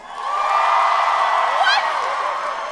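A comedy-show audience in Minneapolis cheers and whoops together, a loud sustained roar of many voices rising and then easing slightly, with a few shrill yells on top.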